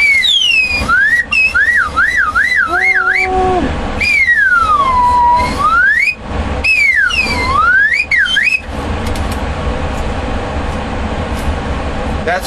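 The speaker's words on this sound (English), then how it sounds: "For those that do not like the sound of the slide whistle" A slide whistle glides up and down in loud looping swoops, wavering trills and long bends over several seconds, then stops, leaving a hum of room noise.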